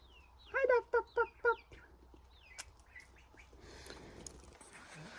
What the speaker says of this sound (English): Ethiopian ducks or something.